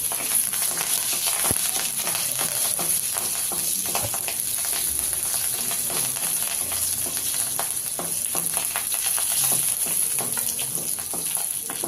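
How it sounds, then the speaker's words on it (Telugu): Curry leaves and garlic cloves frying in tempering oil for peanut chutney give a continuous close sizzle and crackle with scattered pops, with no voices. "2 రెబ్బల కరివేపాకును కూడా దూసి వేసుకుని మరి కాసేపు వేయించి"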